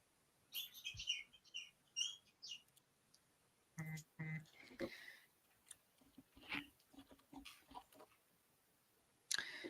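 High, squeaky chirps from a shaken bird toy come in irregular bursts, close by, with some soft rustling and clicks between them.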